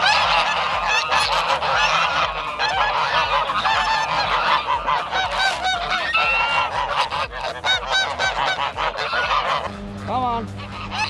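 Geese honk repeatedly and loudly on a university campus, a busy overlapping chorus of calls close by with a few faint voices in the background.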